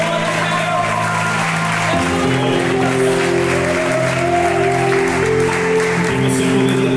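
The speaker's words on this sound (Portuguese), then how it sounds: "aplauda Jesus pela sua vida" A church congregation applauds together in sustained, dense clapping that fills the room, while a loud tonal sound, likely music, runs underneath.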